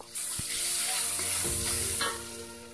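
Crushed galangal fries in hot oil with a loud, steady sizzle, while a utensil stirs and scrapes the pan in a few close strokes; the sizzle settles slightly toward the end.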